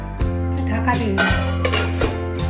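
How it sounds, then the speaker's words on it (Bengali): A metal lid goes onto a cooking pot of potato and pointed-gourd curry, making a couple of clanks and a rattle as it settles, over a steady low hum. "ঢাকা দিয়ে দিলাম"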